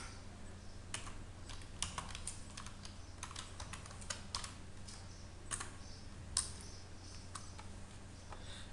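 Keys on a computer keyboard are typed at a quiet, irregular pace, with bursts of light clicks over a faint steady background hum and no talk.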